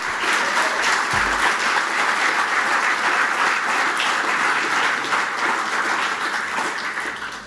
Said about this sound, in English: A big round of applause, folks.